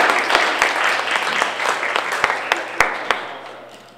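A small audience at an arts center award ceremony claps for an honorable mention winner, a short burst of applause that quickly tapers to a few isolated claps.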